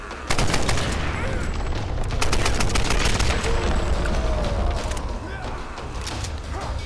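Rapid bursts of gunfire in the Tomb Raider PC game crack out in a dense, continuous barrage, loud and close, for several seconds.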